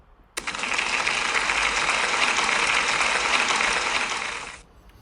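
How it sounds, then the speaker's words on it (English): Applause for a pupil at a school celebration, starting abruptly and holding as a dense, even wash of clapping from many hands for about four seconds before cutting off. "Can we give Isla a big round of applause?"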